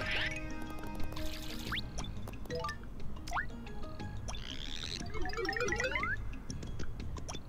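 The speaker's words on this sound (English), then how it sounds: "you can walk on water as Tiny Mario" Tiny Mario's watery footsteps in Super Paper Mario: light splashy drips and springy boing-like blips, with rising and falling chirps from other game effects layered in, moderately quiet throughout.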